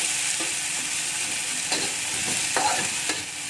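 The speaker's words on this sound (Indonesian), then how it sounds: "Kita aduk rata sampai bawang dan daun-daunnya semua harum." Shallots and leaves being stirred in a hot pan with oil while cooking a spicy soy-sauce mushroom dish, giving a steady close sizzle broken by several scraping stirs of the utensil.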